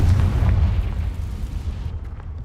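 A Confringo spell blast in the video game Hogwarts Legacy: one deep, loud boom with a rumbling low tail that fades over a couple of seconds.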